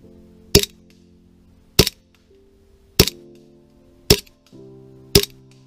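Five sharp, loud shots from a Golden Eagle 1911 double-stack airsoft gas pistol firing 0.20 g BBs outdoors in cold weather, evenly spaced about a second apart, each a crisp crack with a brief tail.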